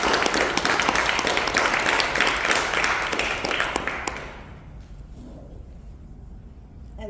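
An audience bursts into loud, dense applause welcoming poets Penn Kemp and Jennifer Wen at a book launch. The clapping holds steady for about four seconds, then thins out and fades to a quiet room.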